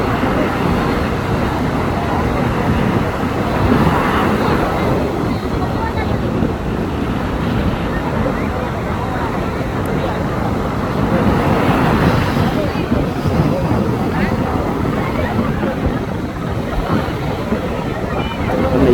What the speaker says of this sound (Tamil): என்ஜினோட சத்தம்